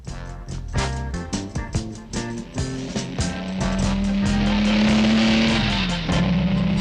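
A cartoon car from an animated Dr. Seuss Green Eggs and Ham segment revs and races, a series of rapid engine bursts and whooshes building into a sustained high motor whine that dips near the end, fairly loud and alone.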